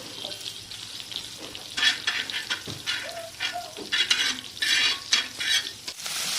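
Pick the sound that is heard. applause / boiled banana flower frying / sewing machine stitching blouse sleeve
boiled banana flower frying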